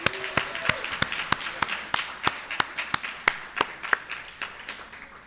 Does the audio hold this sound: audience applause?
yes